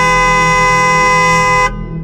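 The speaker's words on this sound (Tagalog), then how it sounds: "bigla kong narinig ang isang napakalakas na busina" A loud, sustained vehicle horn blares close by for well over a second, then cuts off abruptly, leaving a low background hum.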